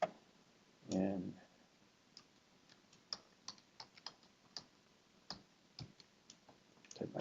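Keys clacking on a computer keyboard as a password is entered, a sparse run of sharp, irregular clicks spread across several seconds, with one brief low thud near the start and no talking over the taps.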